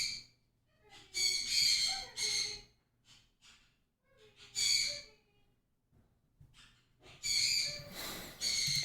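An owl or other bird gives several bursts of breathy, hissing calls at close range, separated by quiet pauses, with a faint low hum underneath.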